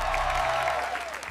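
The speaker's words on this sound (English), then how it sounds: "receiving applause." A crowd applauds after a project presentation, a dense, steady patter of many hands with a low hum and a faint tone running underneath, easing off slightly at the end.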